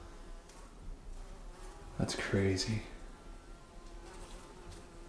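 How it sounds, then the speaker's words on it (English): Bees buzz steadily inside an abandoned mansion in the woods, a soft, continuous insect drone under a brief spoken remark. "There's bees flying around in here."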